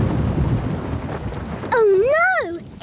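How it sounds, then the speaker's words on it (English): Thunderstorm in a cartoon kingdom: steady rain hiss and a low rumbling roll of thunder fill the first stretch, then a rising, falling wailing tone sweeps in on top near the end, loud and close. "It's a thunderstorm!"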